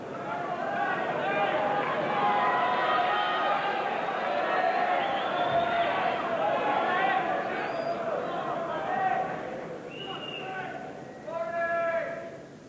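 A packed snooker auditorium at the 1997 Masters final between O'Sullivan and Davis, steady crowd chatter and murmuring that dips and thins out toward the end, with a commentator talking over it.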